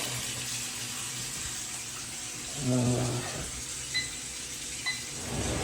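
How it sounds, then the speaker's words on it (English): Water runs from a tap under a sink in a Brooklyn house as a steady, close hiss throughout, with a brief spoken voice partway through. "The water's working, that's good, it's not turned off."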